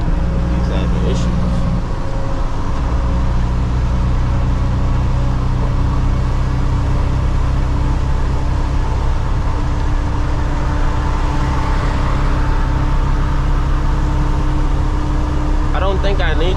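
A loaded dump truck hauling recyclable concrete climbs a small hill without downshifting, its diesel engine droning loud and steady with a constant low rumble from start to finish.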